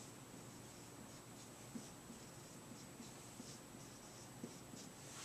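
A pen writes out a math problem on paper, faint soft scratching strokes in a quiet, irregular rhythm, close and alone with no talk.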